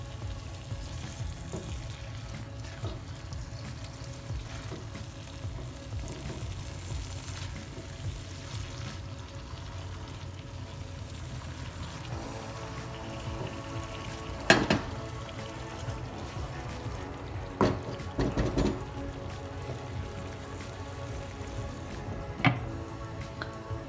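Chicken achari simmering in a pan, a steady low bubbling and gentle sizzle running throughout with occasional utensil clinks and taps; no one speaks.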